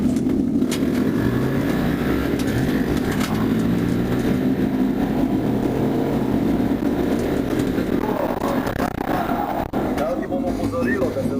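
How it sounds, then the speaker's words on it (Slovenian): A motorcycle speeds along Griffin Road fleeing police, its engine a steady droning roar with rising and falling harmonic sweeps, heard close and continuous under a voice speaking throughout. "ustaviti motor, ki drvi po cesti Griffin Road"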